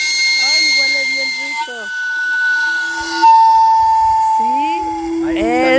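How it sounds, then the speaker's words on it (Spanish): A Mexican street cart selling sweet potatoes and plantains lets out a steam whistle, a series of shrill, steady tones that shift pitch and break into warbling, near and loud, with a brief gap and some hiss. "Esto es el sonido de los platanitos camotes, lo mejor de México."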